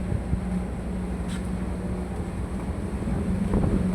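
Typhoon Tino's strong wind roars and buffets against the microphone in a steady loud rush, with the wild sea churning underneath throughout and no voices.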